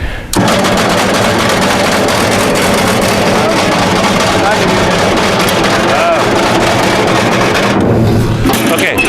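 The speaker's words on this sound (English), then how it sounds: "I noticed the fan is hitting the radiator shroud. That was that horrendous noise." A running Ford 8N tractor whose engine fan is hitting the radiator shroud gives a loud, harsh, continuous clattering roar. It holds steady for about eight seconds, then cuts off, and no one speaks over it.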